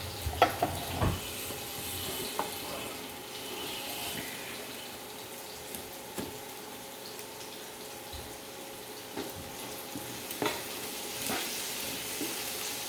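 Pancit bihon rice noodles cooking in a pan give a steady, moderate sizzle with occasional sharp stirring clicks and scrapes. No one speaks over it.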